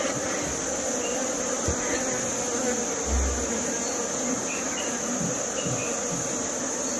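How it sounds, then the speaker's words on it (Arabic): Honeybees buzz steadily around a frame of drone comb at an open hive, a continuous close insect hum with faint shifting tones and a few soft handling bumps. "الآن النحل قام ببناء إطار الذكور كما تشاهدونه أمامكم"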